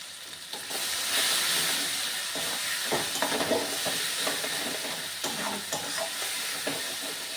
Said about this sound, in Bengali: মশলা থেকে তেল ছাড়তে শুরু করে দিয়েছে